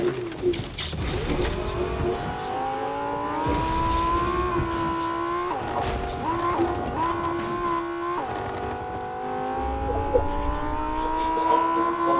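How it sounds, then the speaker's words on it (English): A car engine in Fortnite drones and revs steadily, rising and falling in pitch as it shifts between speeds, with a few thumps along the way; no talking is heard. "I'm getting in the car."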